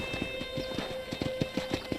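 Horse hooves clip-clop in a quick, even rhythm in Red Dead Redemption, moderately close with faint game music underneath.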